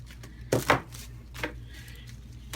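Rose stems being cut for a floral arrangement, giving a few sharp, close chopping strikes: two quick ones in succession, then a softer single cut after a pause.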